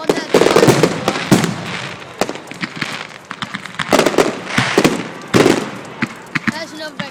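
Fireworks going off in a display, a rapid string of sharp loud bangs and crackling bursts, with people talking among them.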